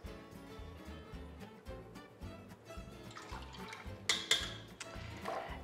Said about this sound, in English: And now 1 tablespoon of our intoxicatingly delicious rose water.